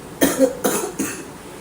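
Three short coughs in a row, close and fairly loud, each a sharp burst that quickly fades, with a brief pause between them.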